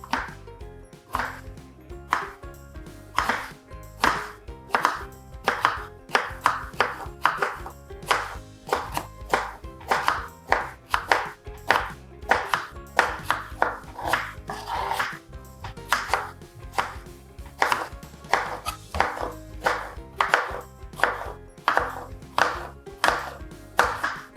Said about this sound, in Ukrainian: будемо різати його соломкою